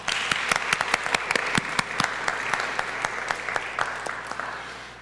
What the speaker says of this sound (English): we offer, once again, a big hand of applause and thank you to our search committee